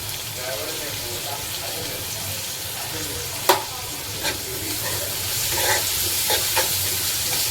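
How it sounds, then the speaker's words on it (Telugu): Fish frying in a pan while browning, with a steady loud sizzle throughout and a few sharper spits and clinks of stirring breaking through. "ఇవి బ్రౌన్ అయ్యేంత వరకు దీన్ని కొంచెం ఉడికించుకోవాలి"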